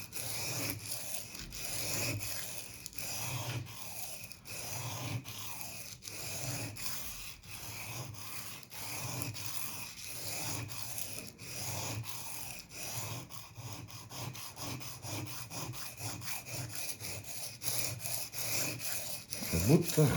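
A meat grinder knife is sharpened by rubbing it on sandpaper over a wooden block at the factory angle, giving a steady, close rasping scrape in repeated back-and-forth strokes that continues without a break.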